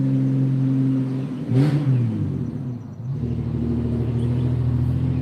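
A loud truck drives down a road nearby, its engine rumbling steadily with a surge as it passes close, then continuing as a low drone.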